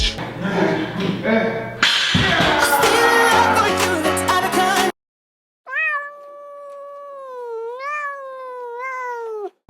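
A cat's drawn-out meows sound alone and close in the second half, following a stretch of loud, busy music.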